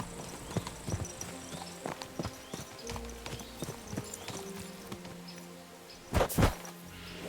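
Horse hooves clip-clop in an irregular, continuous rhythm in a medieval video game, with a few louder thuds near the end and faint voices murmuring underneath.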